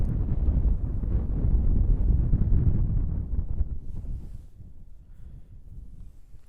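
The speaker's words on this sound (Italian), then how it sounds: "c'è un po' di vento, dà un po' fastidio ed è vento freddo" Cold wind gusts steadily against the microphone outdoors on a hillside walk, loud low buffeting for the first few seconds, then easing into a softer, lighter rush.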